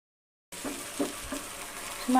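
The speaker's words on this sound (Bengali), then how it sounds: "আঁচটাকে অল্প রাখতে হবে তো মশলাটা ভালোভাবে কষানো হয়" Spice paste of cumin, dry chili and ginger fries in oil over low heat for a Bengali pabda fish tel jhal. After a short silence a steady, moderate sizzle begins, with soft stirring scrapes and a few brighter pops near the end.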